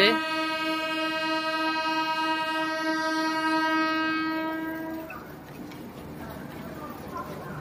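A long, loud train horn blares for several seconds, then fades into rumbling platform noise and distant voices at a railway junction station.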